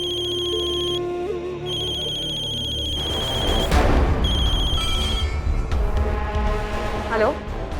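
A mobile phone ringtone for an incoming call in a Hindi TV drama scene, a repeating melodic electronic pattern that plays loudly and close for several seconds and is joined by a swelling musical sting near the end.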